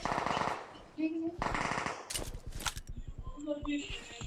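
Rapid bursts of automatic gunfire from the mobile shooter game PUBG Mobile rattle in quick rhythmic volleys, loud and close, with a few sharper cracks and footstep-like ticks in between.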